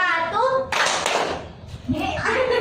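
A classroom clapping game, with a burst of hand claps by a class in the middle, set between spoken commands from a teacher and a voice.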